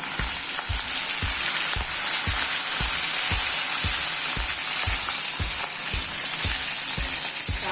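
Mustard seeds, fenugreek, dried chilli, asafoetida and curry leaves tempering in hot oil give a loud, steady sizzle with crisp pops, while a spoon stirs in regular scraping taps against the pan, close up and without talk.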